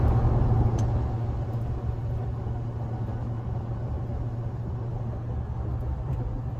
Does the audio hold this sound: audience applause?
no